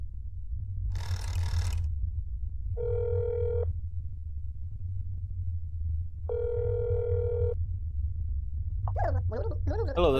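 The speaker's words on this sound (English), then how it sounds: "Okay, we're gonna phone a friend." A telephone ringing in the video game That's Not My Neighbor, two separate electronic rings with a gap between them, over a steady low hum, followed by the start of a voice.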